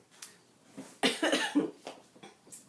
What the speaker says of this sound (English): of course I start coughing as soon as I say that.